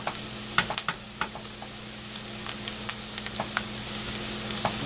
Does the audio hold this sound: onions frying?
yes